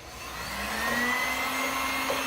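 A heat gun machine runs on an energy saver device in a steady, loud, close blowing roar with a rising motor whine, heard alone without speech.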